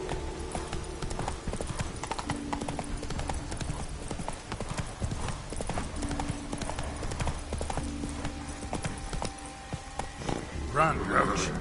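Horse hooves clip-clop steadily at a run in The Witcher 3 video game, a continuous close galloping rhythm with a brief whinny near the end, under game voices speaking.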